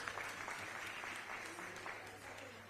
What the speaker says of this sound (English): Give her a big clap as you go to the podium.